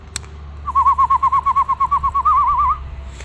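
An Iraqi white-eared bulbul, a tame pet bird sitting out in the morning sun, sings a close, clear warbling phrase of about a dozen rapid pulsing notes that rise slightly toward the end, with no talk.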